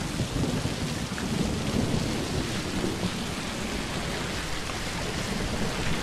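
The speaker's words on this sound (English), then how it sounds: "Rain is never a good sign." Steady heavy rain with rumbling thunder from a TV episode, a constant dense wash of rainfall at moderate level with low rolls underneath, no talking.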